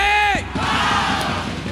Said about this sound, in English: fans are cheering for their favorite teams